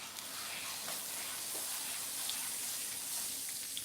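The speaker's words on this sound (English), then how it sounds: "Now I'm gonna butter up my skillet." Butter sizzling in a hot skillet set to low-medium heat, a soft steady crackling hiss that holds evenly throughout, faint and close with no talking.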